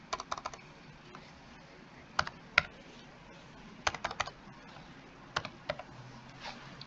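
Bursts of computer keyboard typing while entering a search in purchase-order entry software: short rapid clusters of key clicks separated by pauses, close and fairly quiet, with no talking.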